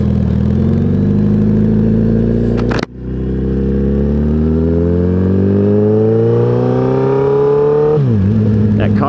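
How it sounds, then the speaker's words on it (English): A 2014 Suzuki Hayabusa GSX1300R with a Kaufman exhaust revs up hard, a sharp pop cuts in, then the exhaust climbs steadily in pitch before dropping back, loud and close. "Kaufman exhaust sounds awesome"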